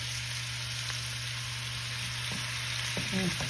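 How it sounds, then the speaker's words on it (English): Steady sizzling of chicken searing in a frying pan, a constant hiss with a low hum beneath and a few faint clinks near the end. "When you hear that frying, that sounds good."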